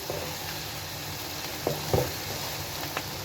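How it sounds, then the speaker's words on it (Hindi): Onions sizzle and fry in a pan for masala bhindi, a steady hissing crackle with a few sharper pops and stirring clatters near the middle, close and alone without talk. "तो जी प्याज को हम 2-3 मिनट के लिए फ्राई करेंगे, ज़्यादा नहीं करेंगे।"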